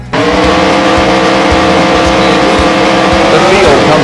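Race cars in the PlayStation game Andretti Racing, the Snap On team Chevrolet among the field on the Cincinnati street circuit, engines droning loud and steady with rising pitch shifts, a voice talking over them.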